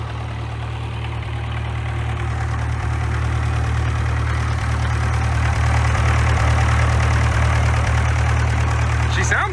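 An engine-driven welder idles steadily, its deep, even engine rumble holding close and loud throughout with no change in pace.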